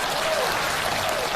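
Brief burst of dense applause from a crowd, steady and fairly loud for just over a second.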